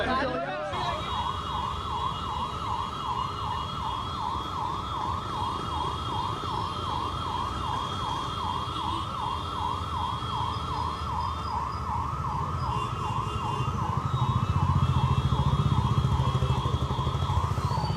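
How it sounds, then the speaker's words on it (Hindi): An ambulance siren wails with a steady, rapidly cycling tone at the scene of a car blast near Delhi's Red Fort, continuous throughout over road noise and crowd murmur, growing a little louder near the end. "शायद आपको उस एम्बुलेंस के सायरन की आवाज़ भी आ रही होगी।"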